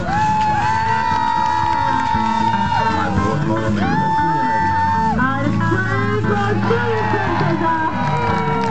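A crowd cheers on lumberjacks at a timber sports competition at a festival, with loud whoops, shouts and long sustained yells rising and falling over several seconds amid general crowd noise.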